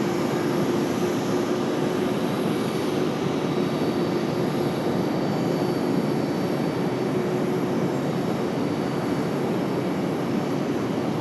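A passenger airliner takes off from runway 5 right at Raleigh-Durham International Airport, its engines producing a steady, continuous roar that holds at an even loudness throughout.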